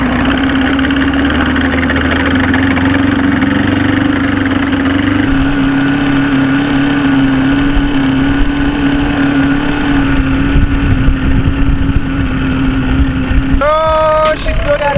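A rebuilt outboard boat motor runs steadily with a constant droning hum throughout, loud and close, with a brief shift in tone near the end.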